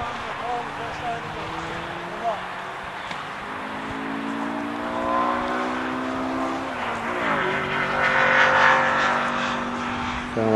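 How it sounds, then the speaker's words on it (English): A car passes with a revving, motorcycle-like engine note that rises in pitch and then drops as it goes by, over steady outdoor background noise at a sports event. "sounded like a motorcycle just went by, but it was actually a car."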